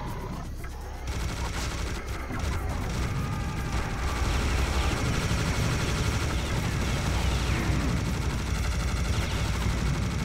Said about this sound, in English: it looks like anti-aircraft fire